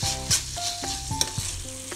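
Mutton keema with coriander leaves cooks in a pan: a steady close sizzle with a few scraping stirs over roughly two seconds, and a musical backdrop runs underneath.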